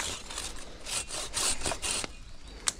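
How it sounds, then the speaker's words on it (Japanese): A hand saw cuts through a fallen cedar trunk on an overgrown, abandoned mountain trail. Rhythmic back-and-forth strokes rasp close and clear, about eight pulls with short gaps between them, then stop, followed by a single sharp knock. "断面積が広くなると切るのが大変なので、めんどいけど左腕で切るか。"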